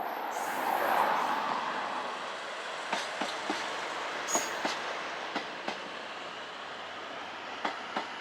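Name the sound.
train passing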